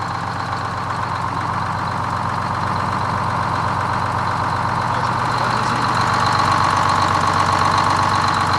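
A 75-year-old Greyhound bus engine idles smoothly and steadily nearby, a continuous low throbbing rumble with a slight knocking rhythm.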